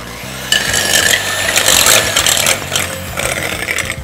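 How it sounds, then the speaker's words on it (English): Electric beaters whisking egg whites in a bowl, a loud, steady whirring buzz with a gritty scraping texture that runs close and continuous throughout. "So I'm just going to start whisking them slightly."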